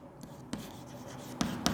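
Pen or marker writing on a surface during a Class 8 science lesson on microorganisms, quiet scratchy strokes with a few sharper taps, close and soft with no talking over it.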